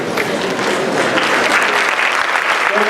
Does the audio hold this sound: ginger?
no